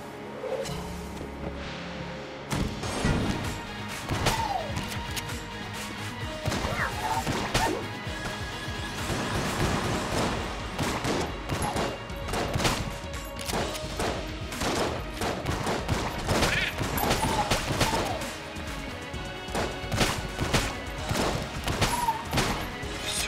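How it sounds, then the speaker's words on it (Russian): Water gun firing two-shot volleys in the dungeon-crawler game Enter the Gungeon, amid a dense, continuous barrage of rapid gunfire, bursts and crashing impacts, loud and busy throughout. "Водяная пушка, слушайте. Пуляет два залпа."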